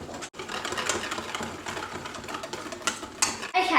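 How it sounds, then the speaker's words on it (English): A whisk beats sticky coconut oil, honey and vanilla bean in a bowl, making a fast, steady, rattling clatter that runs almost without pause and stops briefly once. "I've just finished whisking my coconut oil, my honey and my vanilla bean."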